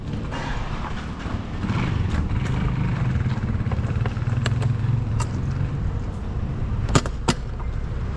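A motorcycle engine runs steadily, a close, continuous low rumble holding at an even idle-like level for several seconds, with a few faint clicks over the drone.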